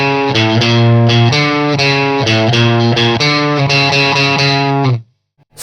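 Distorted electric guitar riff, played through effects with steady repeated chugging strums, loud and close, ending abruptly into near silence.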